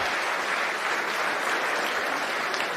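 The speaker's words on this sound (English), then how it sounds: "Claps are good. We allow claps," Steady audience applause fills a conference hall at a Bitcoin event in Amsterdam, a dense, even wash of many hands clapping, close and sustained with no voices on top.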